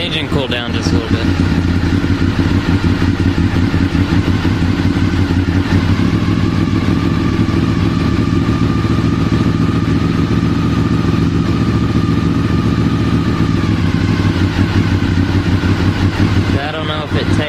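A Honda VFR motorcycle engine idles steadily and loudly up close, a constant low rumble with mechanical clatter, and a person talks faintly over it.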